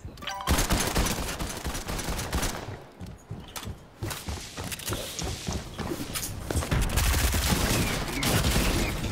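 Gunfire in a shooter video game, with bursts of rapid shots, scattered single reports and footstep-like clatter over several seconds, moderately loud and fairly close, with no clear talk over it.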